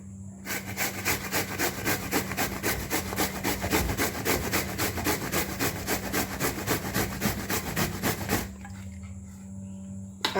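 Bottle gourd is grated by hand for kofta, a fast, steady run of rhythmic rasping strokes scraping close up for several seconds before stopping abruptly.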